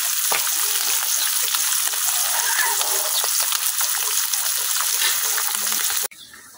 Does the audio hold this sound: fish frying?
yes